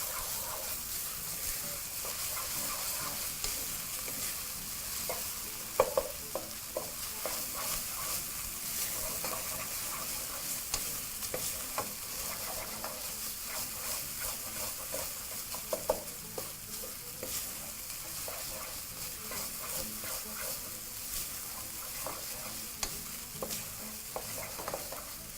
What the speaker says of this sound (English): Now coming back to our mince, we're going to quickly just Mix that through once more